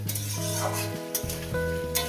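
Vegetables sizzle steadily in a hot pan as they fry with salt, with stirring scrapes now and then; no one speaks.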